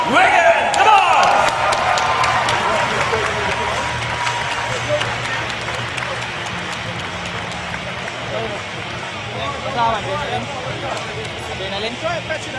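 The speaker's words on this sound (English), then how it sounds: "Ladies and gentlemen, one more big round of applause for Shane Wiggins." A large MMA crowd applauds and cheers for a 40-year-old Filipino fighter after a bout, steady clapping and hubbub filling the arena, strongest at the start and settling into a sustained roar with voices mixed in.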